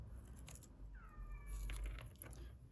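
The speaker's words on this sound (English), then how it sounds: "Oh, there goes a cat." A pet cat gives a short, faint meow indoors, heard once amid quiet household background noise.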